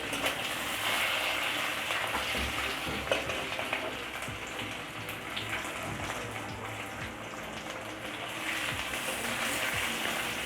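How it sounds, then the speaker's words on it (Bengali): Potatoes sizzle steadily in hot oil in a pan for Bengali aloo morich with black pepper, with occasional scraping stirs over a constant close frying hiss and no talking. "এবার এতে আমি আলুটাও দিয়ে দেব, দিয়ে একটু নেড়ে নেব।"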